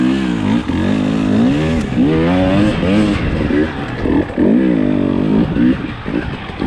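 Enduro motorcycle ridden off-road, its engine loud and close, revving up and down in repeated rising and falling sweeps without a break.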